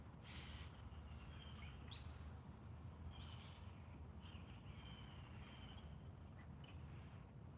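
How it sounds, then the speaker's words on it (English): A cowbird calls from a distance outdoors, giving faint, brief high chirps and liquid notes near the start and again at the end over a quiet background hum. "Oh, there's the cowbird. Did you hear it?"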